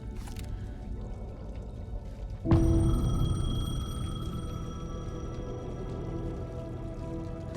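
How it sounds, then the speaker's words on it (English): Payphone ringing in the video game Alan Wake 2, a steady electronic tone that starts abruptly partway through and holds on over a low, dark ambient rumble, with no talking. "The payphone was ringing."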